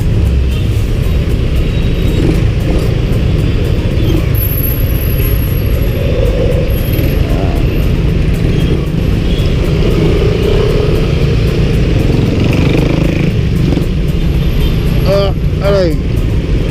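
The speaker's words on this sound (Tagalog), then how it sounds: "Traffic yan, boy." Road traffic in a congested street heard from a moving motorcycle, a loud, continuous rumble of engines and wind with passing vehicles, while a voice talks over it.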